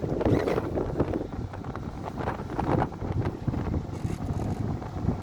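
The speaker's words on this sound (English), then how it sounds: "Motorboat coming out." A motorboat passing on open water near a sailboat, its engine a steady low rumble blended with strong wind buffeting the microphone and water wash throughout.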